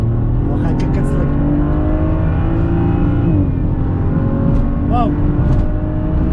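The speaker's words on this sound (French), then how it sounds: "le 6 cylindres en ligne énervé vif كيطير والصوت شحال واعر." A BMW Z4 35i with its inline six-cylinder engine accelerating hard in sport mode, a loud, steady, rising engine roar filling the whole stretch with a brief exclaimed voice over it.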